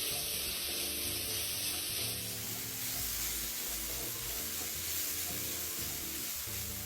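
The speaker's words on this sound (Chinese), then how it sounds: "将食材与调味料一起拌炒均匀。" Ingredients stir-fried with five-spice powder, soy sauce and salt in a wok, a steady close hiss and sizzle with scraping and clatter of the spatula throughout, no voices.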